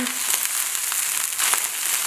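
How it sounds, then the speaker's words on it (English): Food crackles and sizzles loudly in a hot wok, a dense frying hiss broken by small pops and bursts. "Hear that crackling, that bursting, that frying on the bottom"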